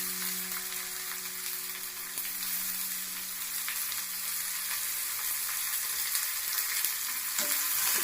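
Mustard seeds, curry leaves, cumin, ginger-garlic and chopped onion frying in a pan, a constant close sizzle with a faint hum early on and a few crackles near the end.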